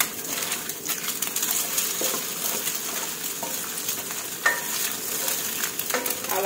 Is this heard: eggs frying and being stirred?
yes